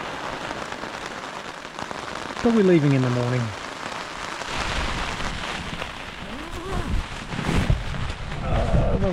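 Rain falling steadily at a wet campsite in Walls of Jerusalem National Park, Tasmania, a continuous close patter on surfaces, with someone briefly talking over it and a short whistle-like tone early on.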